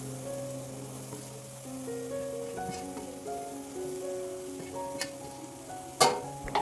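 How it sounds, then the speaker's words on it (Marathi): Chopped raw jackfruit goes into a pan of sautéed spices for a Konkani-style jackfruit bhaji, giving a soft, steady sizzle with faint stirring and a couple of sharp clacks near the end; no talk. "आता आपण इथे बारीक करून घेतलेली कोयरी घालून घ्यायची आहे यामध्ये।"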